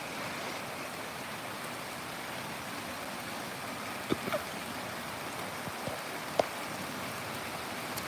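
Rain falls steadily on surfaces in Dhaka, a soft even hiss with a few faint distinct drips and knocks, no voices.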